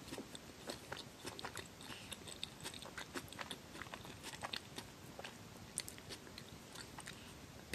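Close-up eating of pizza toast topped with crunchy green pepper: soft, quiet bites and steady chewing with scattered crisp crunches throughout, no talking.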